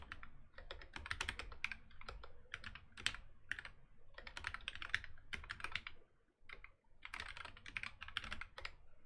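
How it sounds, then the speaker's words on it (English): Rapid keystrokes on a computer keyboard come in dense bursts separated by short pauses, close and fairly quiet, with no voices present. "So let's just type this."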